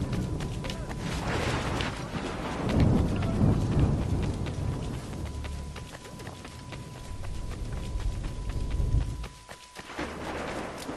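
A steady rain downpour with low rumbling thunder from the game Assassin's Creed 3 fills the scene, broad and continuous, swelling around the middle before briefly dropping out near the end.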